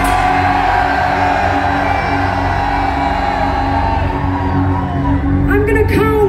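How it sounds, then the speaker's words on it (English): A rock concert crowd at Electric Brixton in London cheering and shouting loudly and continuously, a dense roar filling the hall, with a few sharper whoops rising near the end. "Are you the loudest, the craziest crowd on this whole tour?"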